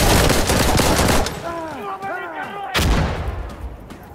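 Loud automatic gunfire in a co-op match of Insurgency: Sandstorm. Dense bursts come at the start and again near the end, with a player talking in the quieter gap between them.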